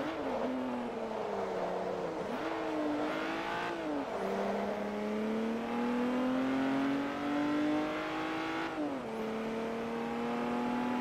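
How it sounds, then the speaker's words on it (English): A growling car engine from a French elite saloon in Forza Motorsport 3 revs up and climbs steadily through several gear changes, each marked by a brief dip in pitch, loud and continuous with no talk. "who cares about the 0 to 60 when you've got a growling engine like this?"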